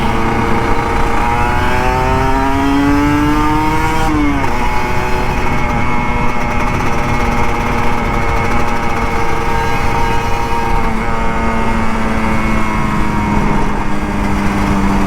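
A Kawasaki Ninja RR 150 motorcycle engine revs steadily on a Jakarta street, its buzzing two-stroke tone rising then dropping sharply once before holding a sustained, loud drone through the rest of the run.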